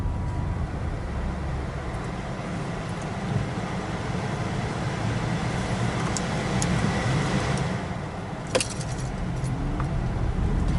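A 2013 Honda Fit EV electric car whirring while driving, a steady low hum of road and motor noise with a few faint clinks from the cabin.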